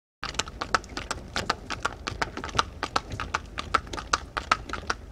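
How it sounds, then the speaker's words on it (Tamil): Horse cart hooves clip-clopping in a steady, brisk rhythm of sharp, distinct knocks, close and fairly loud, with no voices over them. "குதிரை வண்டி. குதிரை வண்டி."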